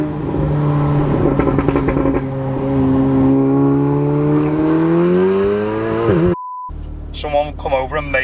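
A Nissan GT-R engine revving up, a loud sustained tone climbing steadily in pitch for several seconds, then cutting off abruptly, followed by a short beep and brief mechanical noise.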